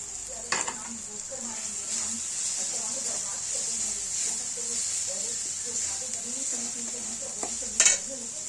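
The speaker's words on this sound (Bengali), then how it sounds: "আদা, রসুন, টমেটোর, পেঁয়াজ এই সমগ্র মশলাগুলো নিয়েছি, সেগুলো আমরা ভালো করে তেলে ভেজে নিচ্ছি।" Ginger, garlic, tomato and onion sizzle steadily in hot oil for chana dal tadka, a continuous hiss with soft stirring scrapes and a couple of louder utensil knocks near the start and end.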